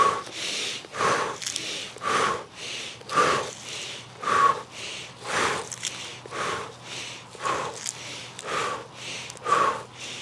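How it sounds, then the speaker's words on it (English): Slow rhythmic breathing during an exercise routine, inhaling through the nose and exhaling through the mouth, about nine close, audible breaths evenly paced, with no voice over them. "Same thing with the breathing. Inhale through the nose,"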